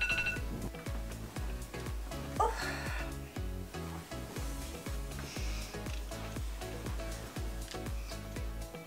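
An alarm clock rings with a steady, rapid repeating beep pattern, continuous and fairly faint, sounding alone without any speech.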